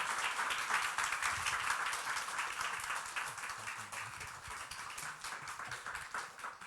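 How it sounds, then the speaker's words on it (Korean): Sustained applause from a church congregation during a Sunday service, dense and steady clapping that slowly thins toward the end, with a faint voice underneath. "박수"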